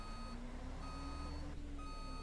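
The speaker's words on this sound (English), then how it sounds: "Oh, I'm going the wrong way. Oops. Nope, back we go." Reversing beeps from a Neoman bus in the OMSI 2 bus simulator, set on the Breslau (Wrocław, Poland) map, sound as a steady repeated tone over a constant engine drone, with a short break near the middle of the clip.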